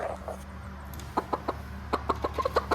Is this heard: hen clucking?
yes